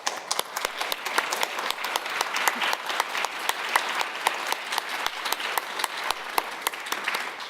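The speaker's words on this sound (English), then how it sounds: "we'll give you a round of applause." A standing audience gives a round of applause at a university presidential lecture, steady dense clapping lasting several seconds at moderate level with no talk over it.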